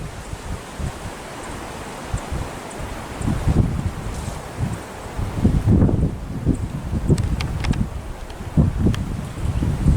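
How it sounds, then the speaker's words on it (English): Strong outdoor wind buffeting the microphone in central Pennsylvania, a steady roaring rush with heavier low gusts surging and fading throughout, close and loud with no speech. "Again, real windy here,"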